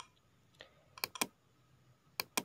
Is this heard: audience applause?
no